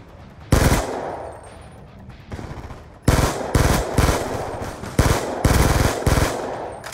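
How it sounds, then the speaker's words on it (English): Rapid automatic gunfire from Call of Duty: Black Ops 2 in Gun Game mode: one short burst, a pause, then a string of loud, closely spaced bursts. "That was some terrible shooting."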